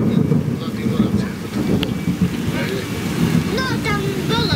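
Thunderstorm with rain and strong wind in Prievidza, a steady loud wash of rain and gusts with low rumbling throughout, with faint voices and birdlike chirps in the background.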